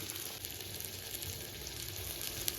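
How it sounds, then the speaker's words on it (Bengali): Mustard-poppy spice paste with tomato paste, salt, turmeric and dry red chilli powder fries in oil for a Pabda fish curry, giving a steady, close sizzle and crackle that runs unbroken, with no voices. "ভালো করে মশলাটা কষিয়ে নেব"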